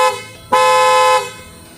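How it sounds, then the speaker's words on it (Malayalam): A Hella Pearl trumpet car horn sounds from outside the cabin: one loud, bright, sustained blast of under a second, heard close and alone. "പക്ഷേ അതിനെ അപേക്ഷിച്ച് ഈ ഹോണിന് നല്ല ശബ്ദമാണ്."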